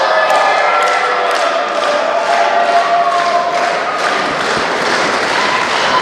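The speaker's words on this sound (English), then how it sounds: "The franchise apparently not happy with all the noise the crowd's making" A wrestling crowd at a live match rumbles and chatters in a steady, loud roar, with occasional thumps and scattered shouts rising through the din.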